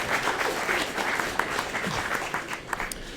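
A live audience at a Gerry Anderson fan event gives a round of applause, brisk mixed clapping from a modest crowd, fairly close and continuous for a few seconds.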